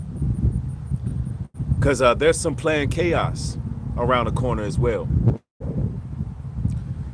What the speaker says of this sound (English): It's pretty windy outside.